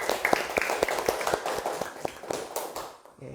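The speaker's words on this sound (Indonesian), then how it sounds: "Oke, tepuk tangan dulu." An audience claps in quick, rhythmic strokes, a dozen or so sharp claps close together before fading out.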